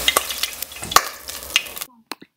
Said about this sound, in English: Now I'm going to add about 2 tablespoons of oil in a Dutch oven skillet